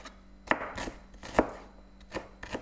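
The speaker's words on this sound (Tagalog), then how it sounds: "puputulin muna natin to at gigisahin natin tong onion" Knife chopping onion on a cutting board for a green beans and pork belly dish, with several separate chops at an uneven pace, close and fairly faint, no talking.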